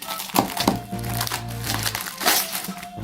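Packaged cups, novelty cups with cartoon characters, being unwrapped by hand, their plastic wrapping crinkling and crackling close up in repeated bursts, with a few soft voices in the background.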